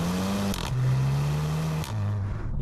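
A Skoda Octavia RS 230 engine pulling at full power, loud and close, rising in pitch through two quick gear changes with brief pauses at each shift.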